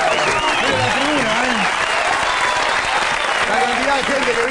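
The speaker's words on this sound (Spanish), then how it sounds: "Fuertes aplausos para Santiago." Studio audience applause on an Argentine late-night talk show as the guest Santiago Segura is welcomed, steady loud clapping and cheering filling the room throughout, with voices rising over it.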